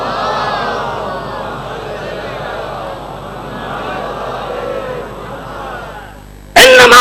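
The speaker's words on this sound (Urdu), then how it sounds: "صلوات بھیجیے محمد و آل محمد" A large mosque congregation chants a salawat blessing in unison during a majlis, a dense, steady crowd of voices that rolls on continuously before a sudden louder burst at the end.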